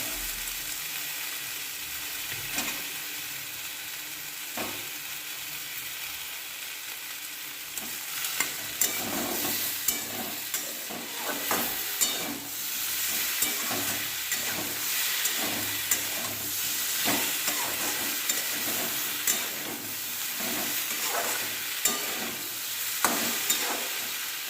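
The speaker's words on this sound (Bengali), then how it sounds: "একটু রেখে দেবো টমেটোটা ভাজা হওয়া পর্যন্ত" Tomato frying with vegetables in a pan while making suji idli, a steady sizzle running throughout and growing busier about a third of the way in, broken by frequent sharp scrapes and clicks of stirring.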